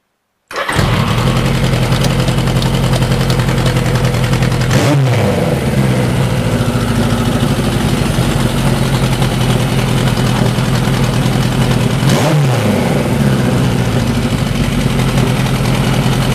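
A Suzuki GS1000 motorcycle engine under repair fires up and settles into a loud, steady running note, with two sharp rev blips rising and falling along the way, heard close and alone.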